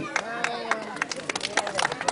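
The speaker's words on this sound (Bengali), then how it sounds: "ধন্যবাদ করতালি" Audience applause at an LG company picnic prize-giving, crowd clapping in irregular bursts with a busy, mid-distance texture and murmuring voices mixed in.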